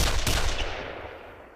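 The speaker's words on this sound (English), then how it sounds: "But gunshots rang out." A sharp gunshot cracks near the start, followed by a long fading echo that rolls away into the distance.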